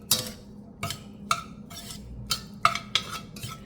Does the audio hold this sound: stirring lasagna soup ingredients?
yes